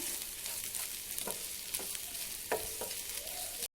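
Onion and coconut frying in a pan for a Chettinad egg curry, with a steady broadband sizzle and a few scraping stir strokes, close and continuous, ending abruptly.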